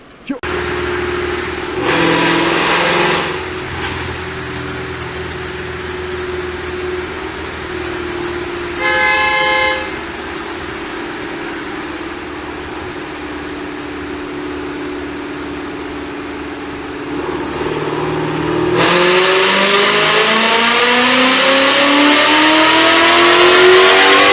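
Supercharged Mustang GT on a dyno, its engine droning loud and steady at first, then climbing into a rising, screaming rev near the end; brief horn-like tones sound earlier.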